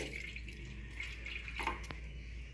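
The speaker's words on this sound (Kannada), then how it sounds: "ಒಂದು ಬೋಗುನಿ ಒಳಗೆ ಸ್ವಲ್ಪ ನೀರು ಹಾಕೋತೇನೆ ರೀ" A little water goes into a cooking pot while jowar flour ambli is being made, faint trickling and dripping in a quiet kitchen.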